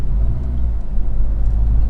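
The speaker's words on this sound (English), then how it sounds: "you can sort of hear the turbo lag a little bit too" A 2013 Mini Cooper S Coupe with a turbocharged engine drives along, giving a deep, steady low rumble from inside the car, loud and continuous with slight surges.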